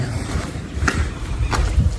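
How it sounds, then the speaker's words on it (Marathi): A small 12-horsepower tractor is driven on a farm, its low engine rumble steady and close, with wind buffeting the microphone and a couple of brief knocks. "मी आत्ता ट्रॅक्टर घेऊन चाललो आहे"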